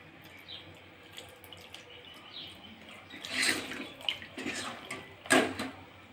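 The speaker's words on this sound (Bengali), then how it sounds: "ছানাটা ঢেলে নিয়েছি, এবার ভালো করে আমি ধুয়ে নেব।" Drained chhena, curdled milk, being rinsed under running tap water, a soft continuous flow that swells into louder splashing bursts toward the end, with faint background sounds.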